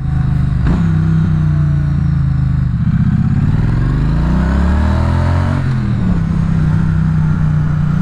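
Triumph Street Twin motorcycle engine running steadily while riding in fifth gear, a loud continuous twin-cylinder drone with pitch rising and falling smoothly as speed changes, close and constant throughout.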